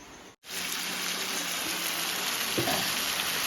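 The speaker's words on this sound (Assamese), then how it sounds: "ইফালে ধুনীয়াকৈ মাংসটো ভাজি আছোঁ" Meat frying in a pan during heavy rain gives a steady, loud broadband hiss that runs almost without a break, with one brief drop near the start.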